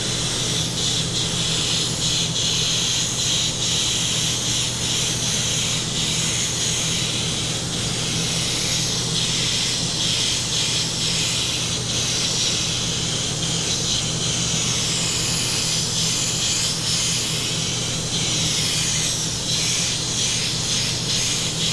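An airbrush with a 0.5 nozzle sprays solvent-based blue flake paint onto test panels, giving a steady, close, unbroken hiss of air that runs alone throughout.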